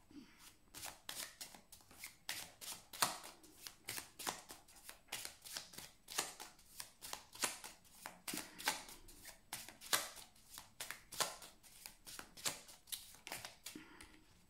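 A deck of playing cards handled and dealt out, a long string of crisp, close flicks and snaps in an uneven, steady rhythm, with no talking.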